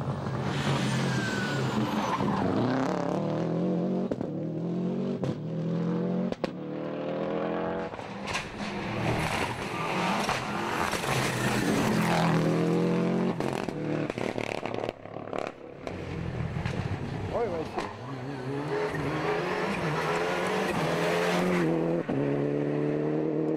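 Rally cars tear along an asphalt stage, a Toyota Celica and Peugeot 206 WRC among them, engines loud and close with revving, gear changes and squealing tyres running continuously throughout.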